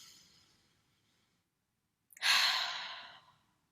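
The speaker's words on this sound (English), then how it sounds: "we'll start by just taking a deep breath." One deep breath during a seated relaxation warm-up: a long, soft, airy exhale that rises suddenly after a near-silent pause, with a fainter breath fading at the start.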